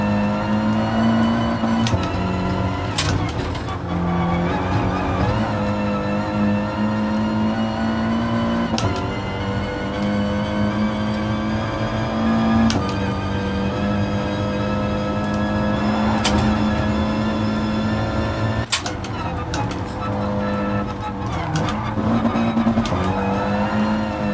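The Audi TT Cup race car roars around the Nordschleife in GT Sport, its engine droning loudly and steadily with repeated rises and drops in pitch as it shifts and corners.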